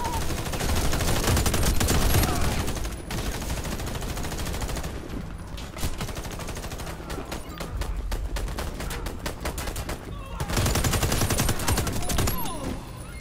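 Dense gunfire in the shooter Warface: sustained automatic bursts and rapid shots that pause briefly and resume, loud and close, with a few voices in the mix.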